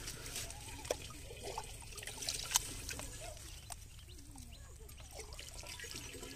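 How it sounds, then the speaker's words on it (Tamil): Water poured out and partly spilling onto the ground, a steady, moderately quiet trickle and splash with a few sharper drips and splashes along the way. "நீங்க கீழ ஊத்துறீங்க பாதியா"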